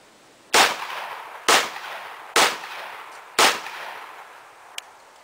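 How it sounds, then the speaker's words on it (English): Heavy rifle weighing over 10 pounds fired four times at roughly one-second intervals, each sharp loud crack trailing into a short echoing decay, with a faint click near the end. "As you see, when this weapon is fired, it has quite an impressive recoil."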